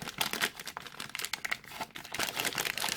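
Packaging of a Xiaomi Redmi Note 5 phone being opened, with close, busy crinkling and crumpling plastic and a few tearing rips in irregular bursts, no talk over it.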